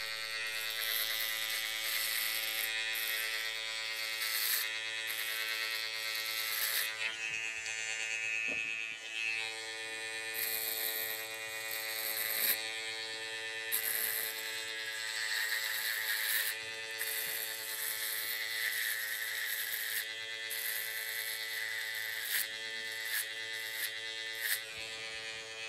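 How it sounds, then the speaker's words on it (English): An electric foil shaver buzzes steadily and close up while cutting hair during a high skin fade, its tone wavering slightly as it moves in different directions, running continuously with no speech. "that completes with the foil shaver"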